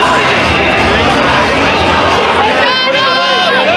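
Fans of a politician crowd around him after a speech, producing a dense, loud hubbub of overlapping voices and shouting that stays steady throughout.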